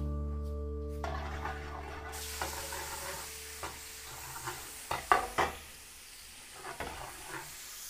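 Star margarine melts and sizzles in a hot pan, giving a soft steady hiss with a few scattered crackles and stirring clicks, faint and close, with no talk over it.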